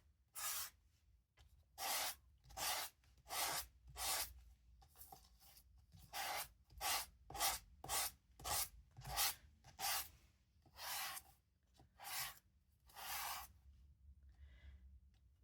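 Rhythmic rasping strokes of a nail file sanding across a paper envelope, about twenty steady back-and-forth passes, close and fairly quiet, with no talking.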